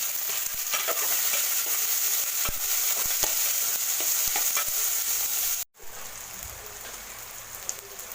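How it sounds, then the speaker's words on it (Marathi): Onion fries in hot oil in a pan that was just used for frying peanuts, giving a dense, continuous crackling sizzle with scattered pops; the sound cuts out briefly, then resumes more softly. No one speaks. "आता आपण एक कांदा ते चांगलं तळून घेणार"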